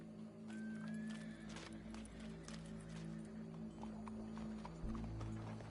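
Horse hooves clip-clopping in the video game Red Dead Redemption, a steady rhythmic clopping close by over low background music and ambience, with a brief whinny.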